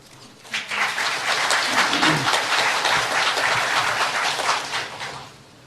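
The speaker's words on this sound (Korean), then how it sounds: "많은 박수 감사드리겠습니다" An audience breaking into applause at a press conference, a sudden onset of dense, even clapping that holds for several seconds before cutting off, fairly loud and close.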